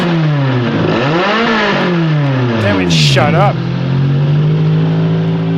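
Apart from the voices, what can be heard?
Toyota AE86 4AG race engine revving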